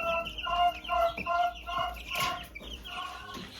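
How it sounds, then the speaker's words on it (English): Laying hens clucking inside a henhouse, a steady series of short, repeated clucks from several birds close by, with no talking. "now we have just the laying hens in here"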